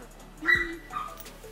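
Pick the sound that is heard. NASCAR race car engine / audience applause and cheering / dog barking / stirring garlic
dog barking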